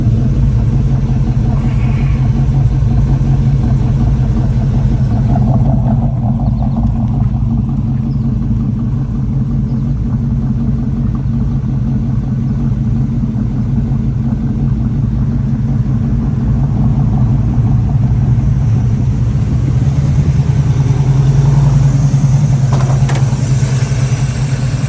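A 1936 Chevrolet sedan with a 327 V8, triple two-barrel carburetors, headers and dual exhaust idles steadily, its deep low rumble loud and close, holding constant for the full stretch with no voices.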